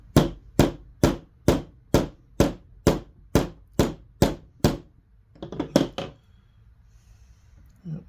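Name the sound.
tapping a part in using a socket during kit assembly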